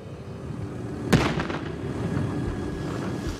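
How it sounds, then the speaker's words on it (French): A dynamite charge set off for avalanche control on a ski slope gives one sharp, distant blast followed by a rolling echo across the mountain, with steady wind-like background noise before and after. "L'urgence, c'est de se protéger du souffle provoqué par l'explosion."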